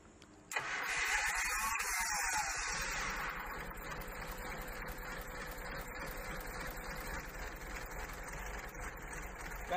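A Komatsu PC200-6 excavator engine cranks and catches, then settles into a loud, steady rumbling idle with no one talking.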